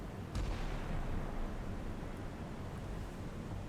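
A Monarch weapon system fires a salvo in a naval combat game, heard as a muffled distant boom followed by a sustained rumbling, wind-like roar.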